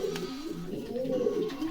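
Pigeons in a bird seller's stock cooing close by, a continuous throaty burbling over about two seconds, with faint background noise.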